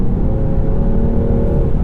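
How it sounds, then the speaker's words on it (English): A 2020 Land Rover Defender P400 with a supercharged and turbocharged inline-6 accelerates hard, a loud, steady, close engine drone heard from inside the cabin with no talking. "that beautiful inline-6 engine note singing out as you get hard on the gas"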